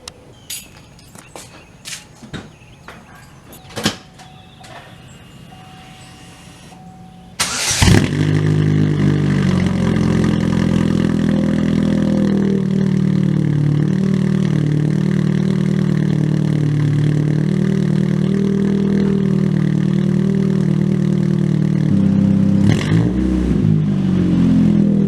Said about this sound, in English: we're going to show you what it currently sounds right now, cold start.